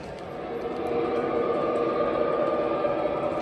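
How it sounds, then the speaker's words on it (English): An MTH Premier New York Central E-8 ABA model train set runs past with its sound unit at full rev. A steady mechanical rumble and hum builds slightly, then holds, continuous and fairly close. "The train's gonna be coming back around."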